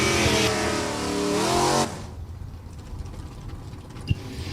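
Camaro drag racing in E-Stock Automatic at New England Dragway: a loud, rising engine wail climbing through gear changes that cuts off abruptly, leaving a quieter idling rumble and a sharp mechanical clack.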